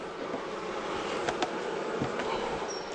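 Honey bees buzz steadily inside a hive while a second honey super is added, a dense, continuous hum close by with a few sharper individual buzzes standing out.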